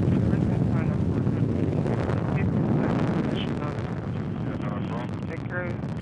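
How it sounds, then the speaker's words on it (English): Soyuz rocket lifting off with four boosters and a single core engine, carrying a crew toward the International Space Station in 2012: a steady, heavy broadband roar that continues throughout, with voices speaking over it. "The Soyuz delivering 102 tons of thrust from its four boosters and single engine"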